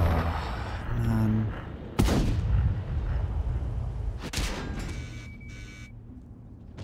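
Two heavy tank gun blasts boom out in World of Tanks, sharp and close, a couple of seconds apart over a continuous rumbling engine background.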